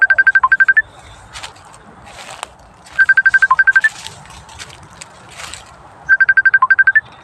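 Phone ringtone for an incoming call, a loud electronic trilling burst that repeats three times with pauses between, with faint noises in the gaps.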